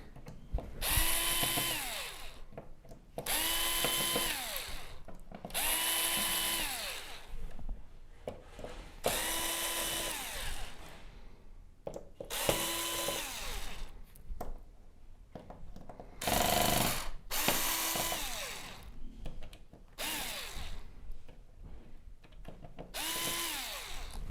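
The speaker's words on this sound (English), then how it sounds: "get all of these screws out of the power supply" Power screwdriver backing screws out of the power supply board on a Samsung UN65JS9000F television, a series of short whirring bursts separated by brief pauses, close and fairly loud with a ratcheting edge.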